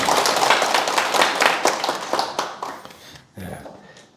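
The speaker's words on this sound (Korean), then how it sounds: "큰 박수 부탁드립니다." An audience at a Sunday lecture claps together in a burst of applause, dense and close at first, then thinning out and fading, followed by a brief murmur.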